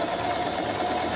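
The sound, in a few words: sewing machine stitching fabric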